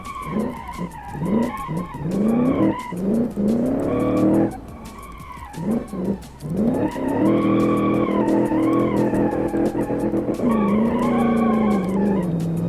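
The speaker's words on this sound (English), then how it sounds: "we had to use a little bit of the handbrake there" A 1956 Silverton concept car skids through a corner on a race lap with the handbrake pulled, long tire squeals that rise and fall over a revving engine, close and loud, continuing almost the whole time.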